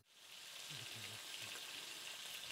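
Butter sizzling in a pan heated to 140 degrees as its water cooks off, a steady faint crackling hiss throughout with a few soft low knocks near the start.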